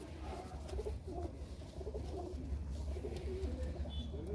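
Pigeons coo in low, repeated, throaty phrases close by, steady throughout over faint background noise.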